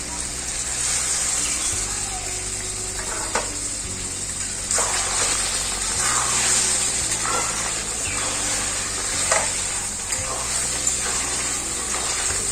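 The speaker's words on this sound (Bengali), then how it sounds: "এইদিকে গরম জল বসানো আছে, অল্প করে আমি এখন এই মাটনের মধ্যে দেবো।" Hot water poured little by little into mutton kosha frying in oil gives a continuous hissing sizzle and gushing, with bursts of spattering and bubbling close by.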